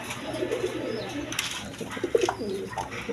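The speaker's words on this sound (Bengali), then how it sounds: "দর্শকবৃন্দ এখানে এক পেয়ার কবুতর আছে" Pet pigeons, including German Beauty birds, coo softly in low, throaty murmurs, a few faint calls against quiet background noise with no talking.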